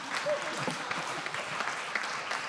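Audience applause at the Te Au o Te Moana conference 2023, a fairly quiet, steady patter of clapping from a crowd, heard at moderate distance with no talk over it.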